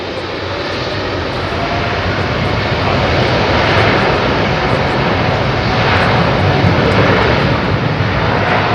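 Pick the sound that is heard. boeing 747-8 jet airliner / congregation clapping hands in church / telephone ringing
boeing 747-8 jet airliner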